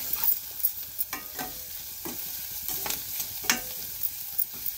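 Onions sauté in a pan for paniyaram kulambu, a soft continuous sizzle broken by repeated spoon scrapes and stirring clatter at an uneven pace, heard up close with no speech.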